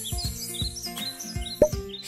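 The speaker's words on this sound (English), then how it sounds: "But Roo the hummingbird, an energetic but tiny bird flecked with shiny blue and green, loved Farmer Johnson's garden most of all." A tiny hummingbird, flecked with shiny blue and green, gives a quick series of high, clear chirps and tweets, close and distinct over about two seconds, with no talk.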